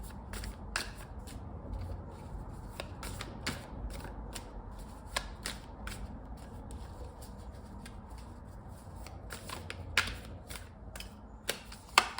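Tarot cards being shuffled by hand, a run of soft crisp riffles and flicks with sharp snaps, close and fairly quiet, with no voices.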